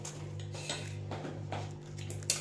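Dishes and cutlery clink softly while a plate of homemade street-style fuchka is served, with a few light taps over a steady low background hum and no talking.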